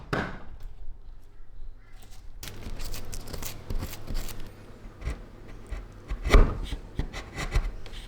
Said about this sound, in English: The chisel was so good for clearing all that up